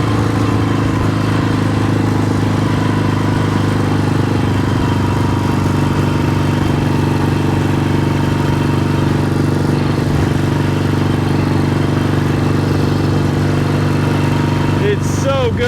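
A 1972 Yamaha XS2 650cc motorcycle engine drones loudly and steadily while riding, the pitch shifting slightly as the bike slows, with wind rush and someone talking over it.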